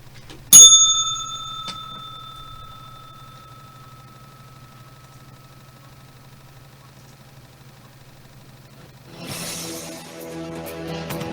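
A single bright bell ding rings out clearly and close, its metallic tone ringing on and slowly fading over several seconds before other sound starts up near the end.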